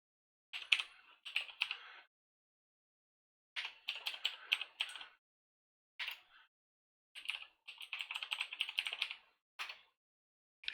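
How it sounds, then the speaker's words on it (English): Password being typed on a computer keyboard during a Linux install: several quick bursts of close, crisp key clicks with short pauses between them, and no voices. "Yeah, I thought I typed it in right."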